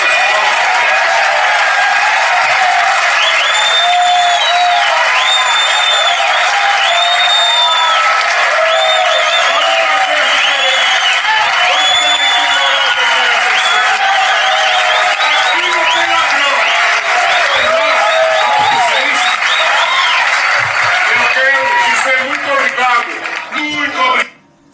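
An audience applauds loudly and continuously at a public address, a dense sustained clatter of clapping mixed with cheering and crowd voices that cuts off abruptly at the end.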